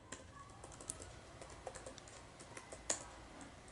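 Quiet keystrokes on a computer keyboard as a password is typed during Ubuntu setup on Windows 11, light irregular clicks with one sharper tap near the end, no voices.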